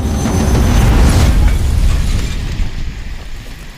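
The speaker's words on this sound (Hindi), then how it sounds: "जीप खाई में गिरते ही एक विस्फोट होता है।" A jeep explodes after falling into a ravine: a deep, booming explosion rumbles loudly and then slowly fades into a low, lingering roar with crackling debris.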